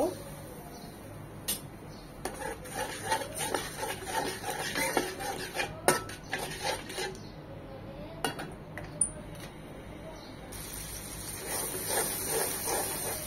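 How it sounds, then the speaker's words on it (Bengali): A soft sizzle of spice paste with a little water frying in a pan, with repeated clinks and scrapes of a utensil stirring against metal throughout. "একটু পানি দিয়ে মশলাটাকে কষিয়ে নেব।"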